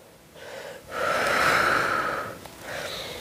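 Close, loud power yoga breathing: a short airy inhale, then a long forceful rushing exhale lasting over a second, followed by another breath starting. No talking is heard.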